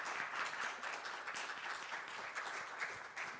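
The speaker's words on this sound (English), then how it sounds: "let's give an applause to Julie for your excellent talk." Audience clapping after an academic talk on graduate education, a dense continuous patter of many hands at moderate level lasting a few seconds, with no speech over it.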